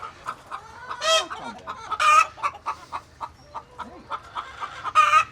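Several chickens cluck and squawk close by in quick irregular bursts, with a louder crow-like call now and then.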